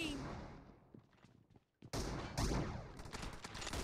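Gunfire in the mobile battle game PUBG Mobile: a quiet stretch with a few faint pops, then a sudden loud burst of rapid shots that continues densely to the end.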